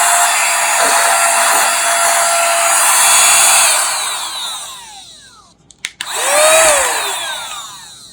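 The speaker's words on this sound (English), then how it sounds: "It is a wireless vacuum cleaner." A small motor in a mini cordless vacuum cleaner whines steadily at high pitch, slowly falls and cuts off with a couple of clicks, then spins back up.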